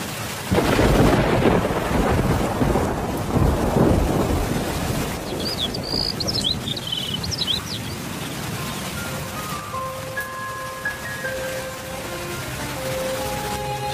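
A thunderstorm in an animated cartoon: a loud, rolling rumble of thunder dominates the first seconds, then steady rain and wind carry on, with faint tonal sounds drifting in near the end.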